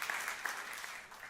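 A church congregation applauding during a sermon, dense steady clapping from many hands filling the room.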